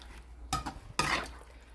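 Beef mechado with bay leaves stirred in a pot, two quick clanking scrapes of a utensil against metal in close succession.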